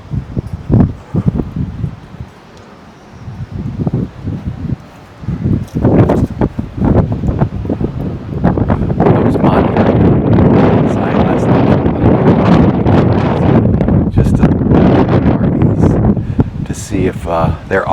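Strong wind gusting across an RV park, a steady loud roar buffeting the microphone with rustling throughout, building in intensity after a brief lull near the start.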